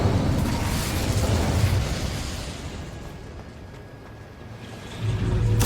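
Incendio fire spell cast in Hogwarts Legacy, a loud whooshing burst of flame that dies down to a low rumble, then swells again at the end.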